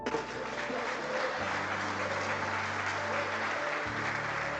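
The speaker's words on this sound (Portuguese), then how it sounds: "Você pode aplaudir." Church congregation applauding at a men's gathering, a dense, steady wash of clapping from many hands throughout, with a low sustained organ or keyboard tone droning underneath.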